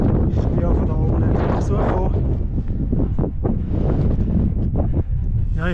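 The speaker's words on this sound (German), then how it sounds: "Ja, es windet." Strong gusty wind buffets the microphone on a 2803-metre mountain summit, loud and continuous roaring throughout, with a voice talking beneath the rush.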